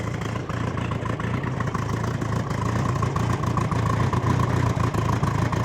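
A Bombardier Bombi engine fitted with a Holley Sniper 1100 fuel injection system, just after a coil replacement, runs at a steady idle. Its low, even drone continues without a break, close and fairly loud, and no one speaks.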